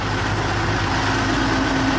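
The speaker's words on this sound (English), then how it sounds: "It hums very strongly. And huge, probably diesel." A huge diesel engine, found with an anchor on a desert island in the Pacific, hums loudly and steadily with a deep low drone throughout.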